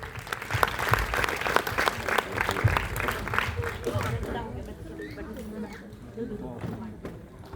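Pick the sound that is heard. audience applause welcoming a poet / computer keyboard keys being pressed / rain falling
audience applause welcoming a poet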